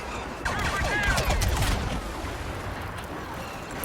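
Blaster rifle fire in the Star Wars Battlefront video game, a dense burst of rapid sci-fi shots with booming low rumble, loud and close, fading into lingering battle noise.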